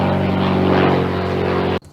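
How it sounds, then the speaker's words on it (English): A propeller airplane drones overhead, a loud, steady engine roar with strong low harmonics that holds for nearly two seconds, then cuts off abruptly. "Ooh, airplane."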